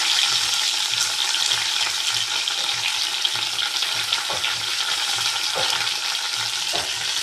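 Onion, mustard seeds and cumin fry in hot oil in a pan, a steady close hiss of sizzling that goes on without a break, with faint soft knocks of stirring underneath.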